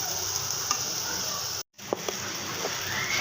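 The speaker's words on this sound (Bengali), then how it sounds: "এখন আমি সব মাছগুলো গুছিয়ে দিয়ে দেব ও সাথে দিয়েছি তেজপাতাগুলো একসাথে ভেজে নেব" Fish pieces frying with bay leaves in oil in a pan, a loud, even sizzle running throughout with a brief dropout in the middle and a few light utensil taps, no voices.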